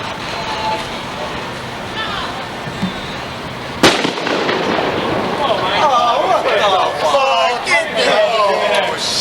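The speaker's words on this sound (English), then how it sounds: "Firecracker, that's all." A firecracker goes off with a single sharp, loud bang near a Chicago Fire Department engine and truck company's quarters in 1990, followed by rustling and crackling noise while people talk in the background.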